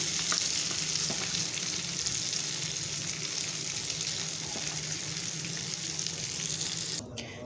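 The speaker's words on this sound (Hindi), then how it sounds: "देखिए हमारे कबाब हैं वो फ्राई हो रहे हैं।" Chicken shami kebabs frying in a pan give a loud, continuous sizzle that stays steady throughout and drops off slightly right at the end, with no talking over it.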